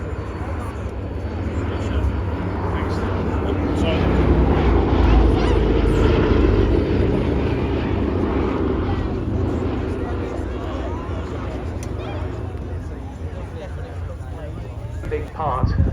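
Boeing B-17 bomber flying a display at the Cosford Airshow, a loud sustained piston-engine drone that swells and fades steadily across the whole stretch, with crowd noise and talk mixed in underneath.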